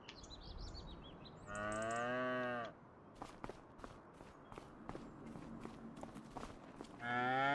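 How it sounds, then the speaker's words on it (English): Cows in a farming video game give two long, loud, drawn-out moos, one early and one at the very end, with soft clicking footsteps and faint birdlike chirps between them. "go ahead and look at our cows."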